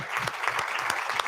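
An audience breaks into brief, lively applause at a commemorative lecture in Madrid, a crisp burst of many hands clapping close by.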